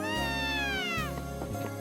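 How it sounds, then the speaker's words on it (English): A cat meows in the Ys VI: The Ark of Napishtim PC game, giving one drawn-out falling meow followed by shorter meow sounds, over a steady droning game-music background, with no talking. "I feel like they changed the cat sound."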